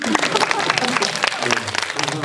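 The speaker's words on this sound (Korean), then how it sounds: "박수" Audience applause fills a Korean film screening Q&A (GV) for the movie 천국은없다, a dense, close burst of clapping from a crowd lasting a couple of seconds with voices mixed in.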